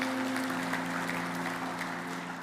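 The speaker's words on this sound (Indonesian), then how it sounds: "Yang percaya kasih tepuk tangan bagi Tuhan kita" Applause from a church congregation during a sermon, a steady even patter of clapping that holds at moderate level throughout, with a low sustained hum underneath.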